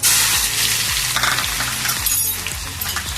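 Mustard seeds, dried red chillies and garlic sputter in hot oil in a small pan, a close, busy crackle and sizzle with sharp popping bursts and metallic clinks of stirring, loud at first and then settling slightly.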